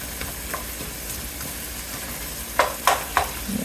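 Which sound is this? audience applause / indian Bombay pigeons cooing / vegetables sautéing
vegetables sautéing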